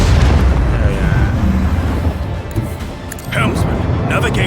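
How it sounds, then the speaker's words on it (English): Macro cannons firing in the Warhammer 40k: Rogue Trader video game: a loud, sustained rumbling barrage of booming blasts that fills the whole clip and eases briefly before surging again. "Show them the fury of our macro cannons."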